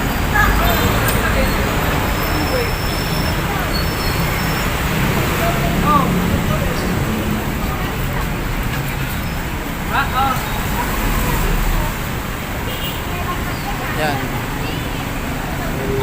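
Heavy road traffic in rain in Santa Rosa, Laguna, a continuous roadway rumble and hiss of vehicles passing, with someone talking over it.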